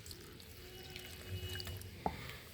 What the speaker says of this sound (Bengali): এবার একটু আমি জল নিয়ে নেব